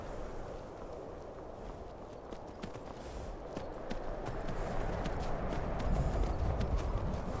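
Horse hooves clip-clop in the video game Vagrant, a soft steady walking rhythm over a low rumbling background that grows slightly louder toward the end.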